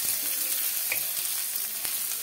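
Green chillies and curry leaves sizzle in a pan while being browned for sabudana upma, a steady close crackle with a few soft stirring scrapes.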